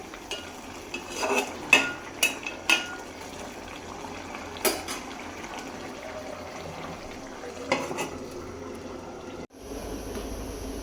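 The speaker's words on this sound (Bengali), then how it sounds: "এই তো রান্না চলতেছে আর কি" Home kitchen cooking with dal, meat and fish on the go, scattered clinks and knocks of pots and utensils over a quiet background hiss, a few sharp clatters early, then a soft rumble near the end.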